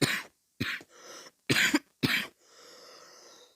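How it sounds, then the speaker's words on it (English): Four sharp coughs in quick succession, close and fairly loud, with short breathy pauses between them and a trailing wheezy breath at the end. "Sorry for coughing."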